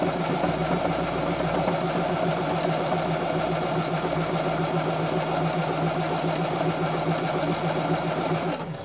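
Steady, continuous whir of a Lancaster Rose sewing machine stitching fabric, loud and close, running without a break for several seconds with no talking.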